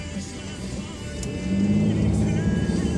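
Steady road noise from inside a moving car, a low engine and tyre drone that swells slightly partway through, with no voices.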